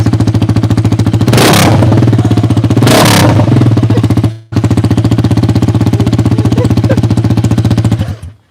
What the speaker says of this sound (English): we're starting the bike up with no muffler